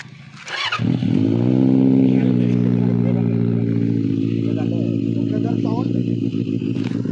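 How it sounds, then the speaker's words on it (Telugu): A superbike with 20,000 km on it is fired up close by. The engine catches with a sharp burst, then holds a loud, deep, steady throaty rumble with slight rises in pitch. "ఈ బండి ఒకసారి ఎక్సలెటర్ ఇస్తా"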